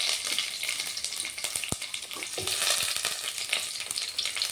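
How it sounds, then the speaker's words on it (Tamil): Mustard seeds splutter and pop in hot oil, a steady dense crackle with sharp individual pops scattered throughout, close and fairly loud with no talking. "கொஞ்சோண்டு கடுகு நல்லா பொரியிற சவுண்டு வருதுங்களா"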